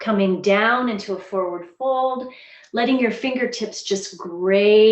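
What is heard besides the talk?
No distinct noise like a dog, phone or traffic.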